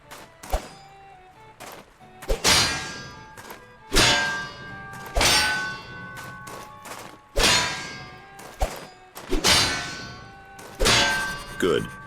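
Ringing metallic sword clangs from parrying in the video game Knights Path, a series of loud, sharp strikes spaced irregularly, each decaying with a bright shimmering ring.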